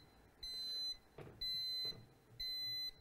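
Temperature alarm on a 250 kVA generator sounding three sustained electronic beeps at an even rhythm, clear and close, with brief gaps of faint handling noise between them.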